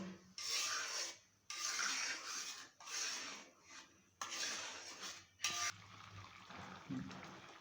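Orange sandesh mixture stirred in a pan: rhythmic bursts of scraping and rubbing from a utensil against the pan bottom, several strokes separated by short pauses, close and alone.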